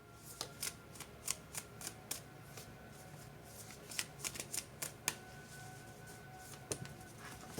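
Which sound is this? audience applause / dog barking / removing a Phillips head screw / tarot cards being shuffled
tarot cards being shuffled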